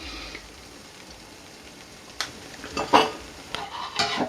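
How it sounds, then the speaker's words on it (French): A camembert and ham omelette cooks gently over low heat in a pan, giving a soft, quiet sizzle with intermittent scraping and clinking of a utensil against the pan. "Après introduction des œufs, on laisse cuire 5-10 minutes à feu doux."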